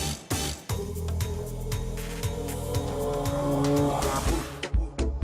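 A car pulls away under a music bed, its engine note steady and close for a few seconds before trailing off at the end.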